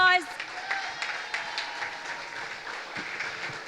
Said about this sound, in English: give the Honorable Minister a round of applause